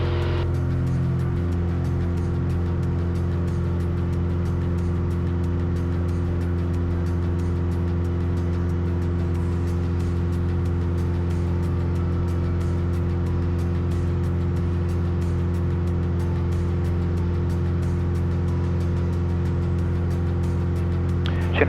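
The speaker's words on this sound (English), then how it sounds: "Here we go, power's coming in, power is set" A Mooney light aircraft's piston engine at full takeoff power, a loud, steady, droning hum held alone and unbroken throughout.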